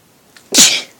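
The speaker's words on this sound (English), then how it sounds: "Sorry, I needed to sneeze there." One loud, close sneeze after a short quiet inhale, bursting suddenly and fading within half a second.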